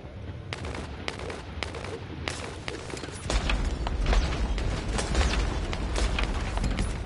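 Enemy gunfire in the co-op shooter The First Descendant on PS5, sharp repeated shots crackling through the scene, then heavier continuous fire with booming impacts and explosions in the second half.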